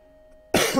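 A single sudden cough, loud and close, breaking a quiet pause.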